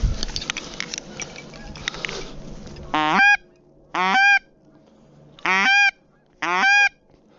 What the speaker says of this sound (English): Bunch of geese.